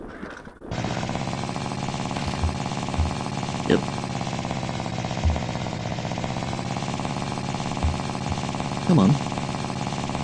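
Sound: moped engine starting and running in video game The Long Drive

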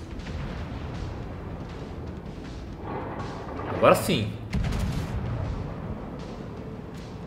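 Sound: battleship gunfire and shell explosions, World of Warships video game

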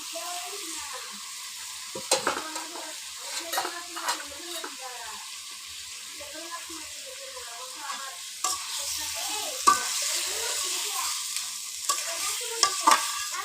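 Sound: taro stolons frying and stirred in spiced oil

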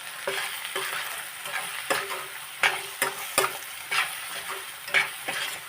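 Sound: stirring stuffed bitter gourd curry in a pan

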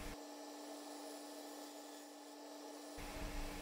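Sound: woodturning lathe, truing a round blank with a bowl gouge

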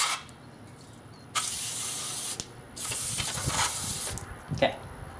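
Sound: spraying cleaner into pistol frame

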